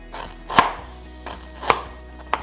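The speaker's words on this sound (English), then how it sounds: "Then you want to slice your ginger as thinly as you can." A knife cuts thin slices of fresh ginger on a board, making three crisp, separate chops spaced about a second apart, close and distinct in a quiet kitchen.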